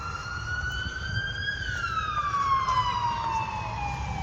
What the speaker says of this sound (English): I'm hearing fire trucks responding in that general direction. It's actually an ambulance.